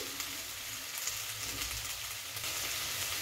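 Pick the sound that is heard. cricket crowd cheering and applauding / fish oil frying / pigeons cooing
fish oil frying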